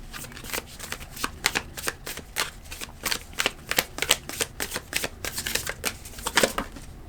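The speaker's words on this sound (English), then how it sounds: "The Empress, the Star, and the Strength card" Tarot cards being shuffled close up, a continuous run of quick riffling bursts and soft slaps in an uneven rhythm, fairly loud and clear, with no talking over it.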